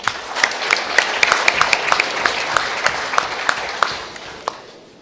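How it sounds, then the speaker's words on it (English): Audience applause at a Model United Nations opening ceremony, steady clapping from a seated crowd lasting about five seconds with a few sharp individual claps standing out. "An applause for Alberto Furioso."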